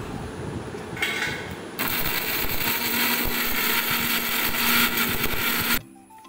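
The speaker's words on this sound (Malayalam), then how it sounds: "2 ഇഞ്ചി കറിവേപ്പിലയും, 1/2 ടീസ്പൂണ് മഞ്ഞൾപ്പൊടിയും, 1/2 ടീസ്പൂണ് മുളക് പൊടിയും ഒന്ന് നന്നായി അരച്ചെടുക്കാം." Electric mixer grinding ginger, curry leaves, turmeric and chili powder: a short rough whir starts, then the motor roars steadily at full speed for several seconds before cutting off abruptly.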